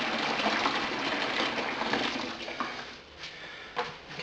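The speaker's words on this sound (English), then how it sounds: "Got boiling tap water running all over my feet." Boiled tap water runs from a household tap in a steady gushing stream, close and fairly loud, then thins and sputters toward the end with a few splashy bursts.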